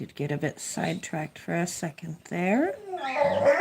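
A dog whimpers with high, wavering whines close by, following and overlapping a person talking.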